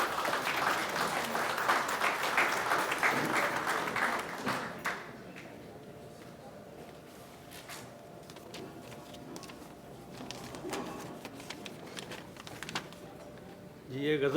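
Audience at a poetry gathering applauds warmly for about five seconds, dense steady clapping that then fades to a quiet room with scattered small noises.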